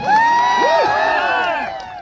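Festive crowd in Lunawada, a town gathering, bursting into loud cheering, whoops and shouts with some clapping, close and lively for two seconds before fading slightly at the end.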